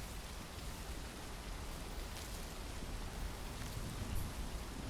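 Steady rain falling in the video game The Isle, a soft continuous hiss of drops spread evenly across the whole stretch, moderately quiet with no talking.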